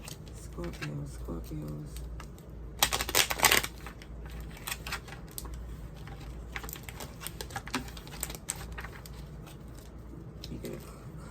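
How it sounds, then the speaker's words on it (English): Tarot cards shuffled in a couple of brisk bursts, one loud riffle standing out near the start, with someone talking over and between the shuffles. "You get a couple of good shuffles in."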